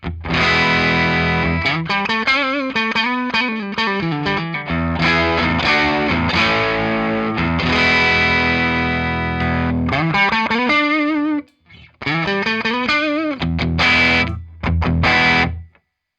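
Driven electric guitar, a Harley Benton HB-35 Plus with split humbucker, plays chords and riffs continuously, gritty and sustained, with a brief pause near the end.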